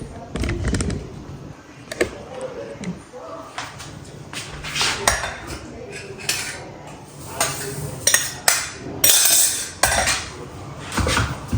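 Roasted sesame seeds and crushed peanuts are stirred together in a pan over low heat, with repeated scraping and clinking of a utensil against metal at close range, while a person talks at times.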